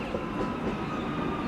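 Victorian Railway S class locomotive in V/Line livery running in a train-driving game, a steady loud rumble of engine and rolling wheels with faint rhythmic clatter, continuous and close throughout.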